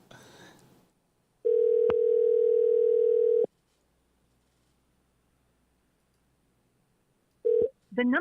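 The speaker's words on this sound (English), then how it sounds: "The number you have dialed does not answer. Please try again later." Outgoing telephone call with no answer: a steady ringback tone sounds for about two seconds, then four seconds of silence, and the tone starts again near the end, clear and alone.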